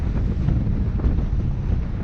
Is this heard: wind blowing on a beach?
yes